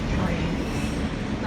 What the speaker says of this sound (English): So we are riding on the track for freight trains.